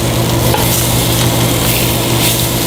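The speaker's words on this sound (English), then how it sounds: "Got a good sear on them" Meat sears in a hot pan for Sunday sauce, giving a loud, steady, close sizzle that runs without a break.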